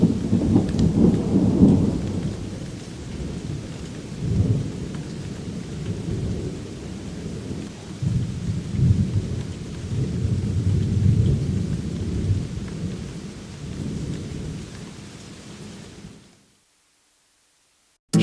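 Steady rain falls on a cemetery, a dense hiss of drops with low rolling thunder rumbling through it, swelling and easing for a long stretch before cutting off to silence.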